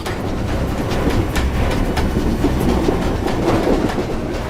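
Steady rumble and rattle inside a moving train carriage, with continuous rail clickety-clack and wheel noise filling the whole stretch, no voices.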